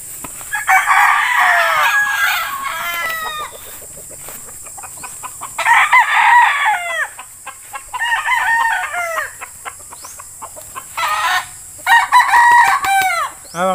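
A stag rooster crows repeatedly in loud, close bursts at a poultry breeding yard, with a hen clucking and low farm background noise between the calls.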